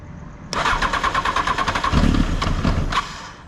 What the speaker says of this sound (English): if we push that button, the bike should start